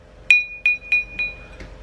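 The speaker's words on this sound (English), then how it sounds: "The tumbler didn't ping very well there." A cut crystal glass tumbler is tapped four times, each tap giving a bright, clear ping that rings briefly. A fifth tap comes out duller.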